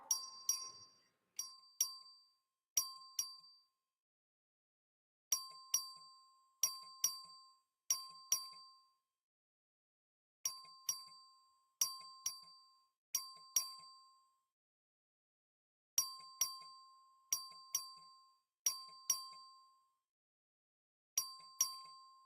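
The Texas House voting bell rings repeatedly in the chamber, bright metallic dings in clusters of three or four strikes, each decaying quickly, with short silent gaps between groups and no talking.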